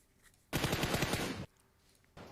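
A rapid burst of gunfire in PUBG Mobile, a tight rattle of about eight shots lasting just under a second, followed by a brief quieter shot after a short pause.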